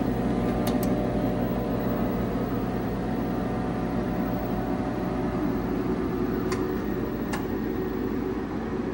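1980s 14-inch disk drives on a 200-pound unit spin up while loading, a constant whirring mechanical hum with broadband air noise, steady and close, with a few faint high clicks scattered through.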